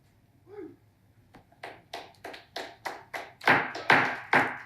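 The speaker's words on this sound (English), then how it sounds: "I ask that there be no applause." Applause at a township council meeting: a series of sharp claps starting sparse and building into a quick rhythmic run, fairly close and moderately loud, with a brief murmur before.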